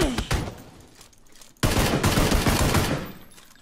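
Shotgun blasts in a video game, a rapid series of loud gunfire bursts with a brief gap before a dense, sustained volley, no talking.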